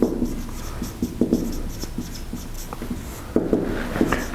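Writing during a university lecture on likelihood: close, scratchy strokes tap and rub in an irregular rhythm, moderately quiet with a faint room background.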